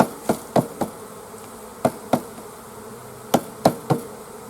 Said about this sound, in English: You can do it is to shake them and just tap them.